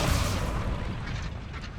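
A fiery blast of the Incendio spell in the video game Hogwarts Legacy: a loud, booming burst at the start that rolls off into a rushing, crackling tail.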